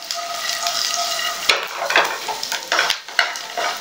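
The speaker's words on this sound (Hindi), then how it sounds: "हल्दी, मखाने डालेंगे" Roasted makhana (fox nuts) are stirred with turmeric in a pan, a continuous scraping and rustling over a soft sizzle, close up with a few sharper knocks of the spoon.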